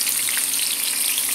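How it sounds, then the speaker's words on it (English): Lamb chops sizzling in a hot frying pan on a home stove, a steady, loud, close crackle of frying fat with no talking. "Look at that lamb frying."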